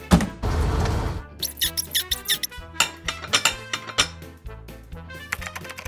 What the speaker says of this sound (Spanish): Ahora sí podemos prender la lavadora de platos.